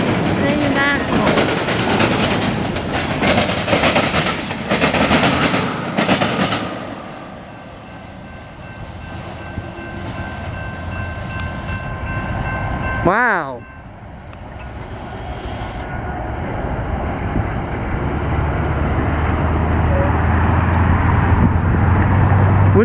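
A Norfolk Southern eastbound mixed freight train rolls past at Fostoria, Ohio, its loud, steady rumble and clatter running through the stretch with a brief interjection from a voice midway.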